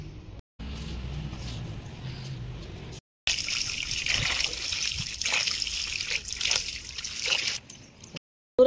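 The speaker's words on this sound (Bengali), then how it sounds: "তো চলুন এখন মাছটা আমি ধুয়ে নিই" Tiger prawns are washed in water, a steady close trickle and splash of running water with some sloshing, continuing for several seconds with a few brief dropouts.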